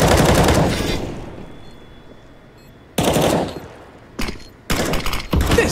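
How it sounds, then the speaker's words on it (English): Automatic gunfire in the competitive shooter CS:GO on the Vertigo map during a pro league playoff match: a loud rattling burst up front, then quieter seconds before several more sharp bursts of shots. "As soon as he does rattle off a tracer fire or two, there will be bullets in return."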